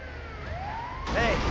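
An ambulance siren in the video game GTA 5, a rising wail that shifts into a louder, faster yelp, heard briefly and close.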